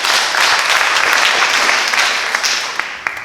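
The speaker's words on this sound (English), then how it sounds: "so give yourselves a big round of applause for that" A community audience at a mayoral and city council debate applauds loudly, a broad sustained roar of clapping that begins to fade near the end, leaving a few separate claps.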